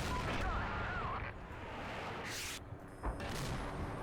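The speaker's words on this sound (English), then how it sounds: "Now I think the howitzers are going to start dropping." Howitzer shells dropping in a video game battle against a Marine Expeditionary Unit, with dull booms and gunfire crackle through a dense, continuous battle din and a sharper blast near the end.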